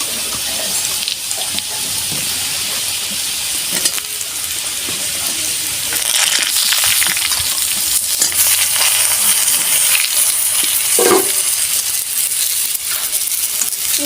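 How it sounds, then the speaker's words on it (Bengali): Potatoes fry in hot oil in a home kitchen pan just after taro pieces were fried, a continuous close sizzle with crackles and occasional scraping stirs, no talk. "এর সঙ্গে আলুগুলো ভেজে নেব আমি"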